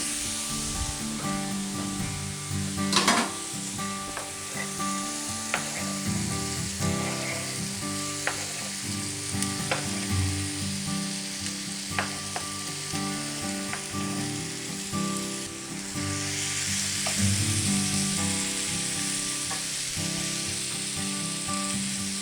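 Chopped garlic frying over medium heat in a pan, heard as a steady close crackling sizzle with scattered pops and an occasional scrape, alone and continuous.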